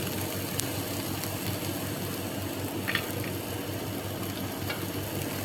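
Onion and garlic sizzling in butter in a pan, a steady, close, dense frying hiss that runs unbroken throughout, with a few faint scrapes of stirring and no talk.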